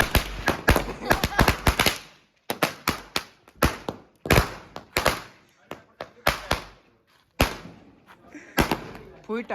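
A string of firecrackers bursts in a village during festivities, loud sharp bangs in rapid volleys with brief gaps between them, close by and with voices around.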